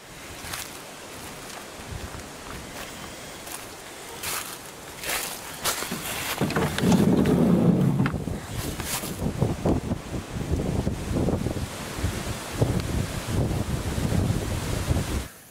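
Gusty outdoor wind buffets a microphone at a camping spot, rising into heavy rumbling bursts midway with irregular rustling and thumps, loud and close and with no talking.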